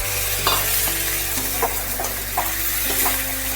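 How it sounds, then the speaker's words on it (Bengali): Spices sizzle and are stir-fried in a pan for a cauliflower moong dal with prawns and peas. A loud, steady frying hiss plays under rhythmic scraping strokes of a spatula, and a low hum sits beneath. "এবার সমস্ত মশলা ভালোভাবে কষিয়ে নিতে হবে।"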